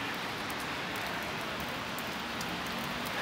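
Steady rain falls outdoors during a guided walking tour of courtyards on Vasilyevsky Island, a continuous broadband hiss with faint drop ticks and no voices.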